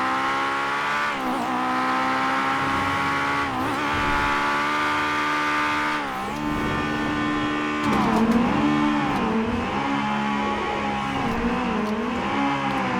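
An Acura RSX Type-S engine in GTA 5 revving hard on a highway, its pitch rising and falling through gear changes, with tire squeal and a few sharp backfire pops, close and steady.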